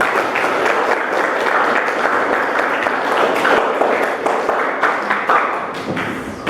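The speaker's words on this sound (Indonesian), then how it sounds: "Tepuk tangan untuk kita semua" A crowd at an Indonesian gathering applauds steadily, many hands clapping in a thick, continuous patter that holds at an even level for several seconds before easing slightly.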